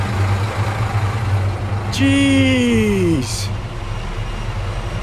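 An army vehicle convoy holds up traffic, a steady low engine rumble rolling past up close with a brief rising-then-falling tonal whine, and a voice briefly exclaims over it.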